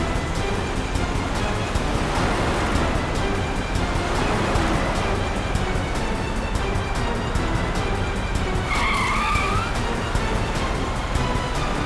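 A car is driven hard with a constant roaring rumble of engine and road noise, and a brief squealing skid cuts through near the end.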